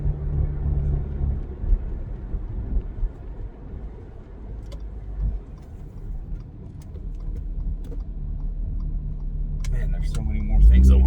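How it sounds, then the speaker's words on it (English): An Audi B8.5 S4 with a Jackal tune idles while warming up, a steady low rumble holding a constant hum throughout, a brief louder surge near the end. "We're going to let the car warm up, obviously, before we go getting on it too hard."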